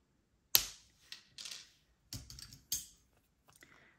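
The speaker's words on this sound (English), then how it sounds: "you want to snip your wire around about here" Jewelry wire being snipped with cutters while making skull wire-wrap earrings, a sharp close snap followed by several smaller clicks and ticks of handling the wire and tools.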